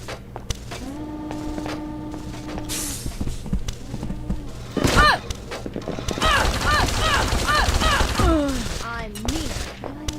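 Gunfire rattles at a turret in the Deus Ex: Invisible War video game, with sharp bursts around the midpoint and repeated shots through the second half, set against steady game tones and voice-like sounds.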